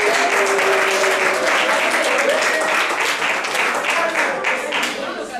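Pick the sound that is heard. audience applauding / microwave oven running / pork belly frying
audience applauding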